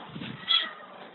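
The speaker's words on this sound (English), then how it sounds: "your cat meowing in the background has created a lot of fans" A house cat gives a single drawn-out meow that rises and fades within about a second, fairly close and clear against a quiet room.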